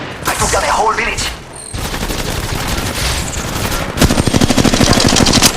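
Rapid automatic gunfire from a mobile battle-royale shooter, Apex Legends Mobile, hammers loud and close in dense bursts, with a brief lull and game-voice chatter mixed in before a final sustained volley.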